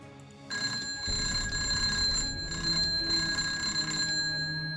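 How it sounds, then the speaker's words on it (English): A telephone rings in the war strategy game Burden of Command, a bright electronic trill with sharp high tones repeating for several seconds over a low murmur of background ambience. "The phone rings and stirs him out of his trance."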